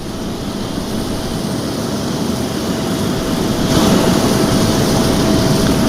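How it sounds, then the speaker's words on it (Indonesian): A presidential airplane lands at Halim Perdana Kusuma airport in Jakarta, a steady loud engine roar with a rushing broadband hiss that swells slightly toward the end, with no talk. "Pesawat yang ditumpangi Presiden Prabowo Subianto mendarat di Bandara Halim Perdana Kusuma, Jakarta"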